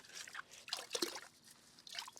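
Water trickles and splashes in short bursts as an aquarium filter sponge is rinsed and squeezed during a saltwater tank water change, close and fairly quiet, with no talking.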